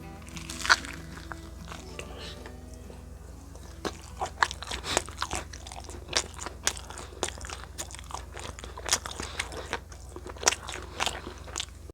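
Close, steady crunching and chewing of toasted rainbow cheese toast, with repeated crisp bites and crackles over a soft background for the whole stretch.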